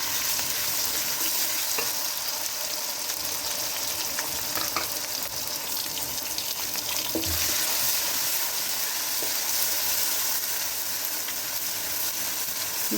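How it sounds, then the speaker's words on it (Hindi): Tomatoes and green chillies frying in masala for dhaba-style mash daal, a steady, dense sizzle with occasional stirring scrapes running close and continuous throughout. "अब मैं इसके अंदर टमाटर और सब्ज़ मिर्चें डाल देने लगी हूँ।"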